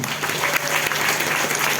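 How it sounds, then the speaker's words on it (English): A football stadium crowd of some 45,000 gives Oliver a farewell ovation, with dense, sustained applause that stays loud and even throughout. "And give him a big hand for the man"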